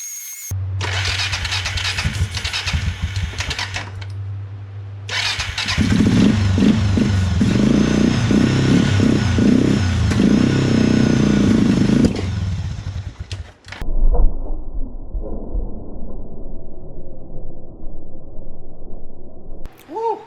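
A Suzuki Quadrunner 500 ATV cranks and catches on starting fluid, sputtering and revving loudly up close, then cutting out to quieter clatter and handling noises.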